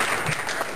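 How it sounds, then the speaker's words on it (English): Audience at a stand-up comedy show breaks into a short, dense burst of clapping, close and lively. "give a round of applause"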